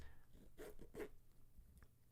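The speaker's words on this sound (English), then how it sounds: "I will try and cut out the zipper noises for audio listeners." The zipper on a camera bag is pulled open in a few quick, close rasping strokes, quiet against a soft background hum.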